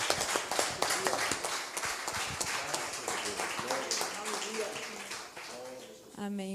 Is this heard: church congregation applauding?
yes